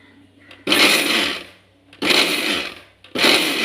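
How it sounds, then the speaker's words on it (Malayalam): A mixer grinder pulses wheat flour in its jar in three loud bursts of whirring and rattling, separated by short pauses, with faint background sound between them. "നിർത്തി ഒന്ന് പൾസ് ചെയ്തെടുത്തു."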